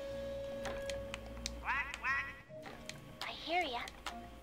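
A cartoonish space duck quacks in the Sly 3 video game, a few bright wavering calls over game music and background noise, with people talking nearby.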